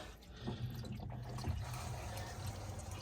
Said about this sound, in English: Okay, I'll hold the fill valve down again.